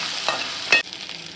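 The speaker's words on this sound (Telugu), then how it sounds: "ఇప్పుడు ఇవన్నీ కలిపి బాగా వేగాలండి ఎర్రగా వేగాలి" Green chillies and spices for a tamarind pulihora tempering fry in hot oil, with two quick stirring scrapes over a faint sizzle in a brief, close moment.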